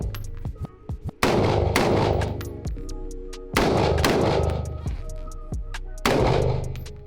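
Shots from a shoulder-fired rifle such as an AR15 or M4 type at a shooting range, three loud sharp reports spaced a couple of seconds apart, each with a long echoing tail, plus softer clicks and handling noises between them.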